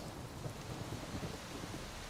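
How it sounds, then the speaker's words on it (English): Steady rain hisses across the whole span in The Witcher 3 on the Skellige isles, with low rumbling thunder underneath, fairly quiet and continuous with no talking. "Oh, bit of rain here."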